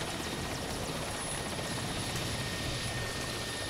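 A helicopter or aircraft engine drones steadily throughout, loud and close, a continuous whirring roar with no pauses, heard as a flight heads toward a disaster area.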